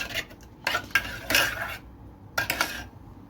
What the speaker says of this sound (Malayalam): പാലൊഴിച്ച് നന്നായിട്ടൊന്ന് മിക്സ് ചെയ്യാം